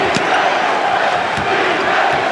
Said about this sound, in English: Chant of defense from this capacity crowd.